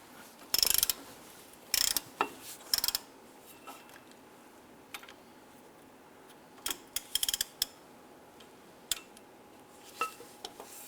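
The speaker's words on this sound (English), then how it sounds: "Using a 19mm socket on your ratchet, go ahead and loosen the caliper bracket bolts." Ratchet with a 19mm socket loosening caliper bracket bolts on a 2008-2013 Nissan Rogue during a front brake job, giving sharp clicking bursts in irregular clusters close to the mic, with quiet pauses between them.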